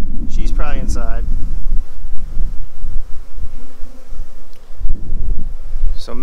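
A honey bee swarm buzzes steadily and close, a dense droning hum that runs throughout, with a few brief voice-like sounds near the start and end.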